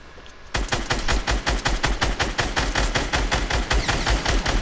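Rapid automatic gunfire from a Fortnite match, a steady burst of evenly spaced loud shots that starts after a brief quiet moment and keeps going to the end.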